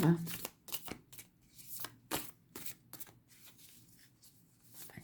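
A deck of tarot cards being shuffled by hand, with repeated crisp riffling bursts close up in an uneven rhythm, and a quiet voice at the start.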